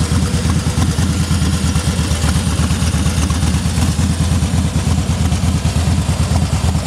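A 2010 Harley-Davidson Heritage Softail Classic's engine idles steadily up close, a loud, lumpy low-pitched rumble with a rapid uneven beat and a mechanical clatter on top, running on its own without talk.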